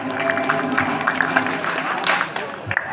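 An audience at a primary school in Chinnaparavathur, Sholinghur applauds students after their school play: a continuous, fairly loud clatter of many hands, mixed with voices and some movement nearby.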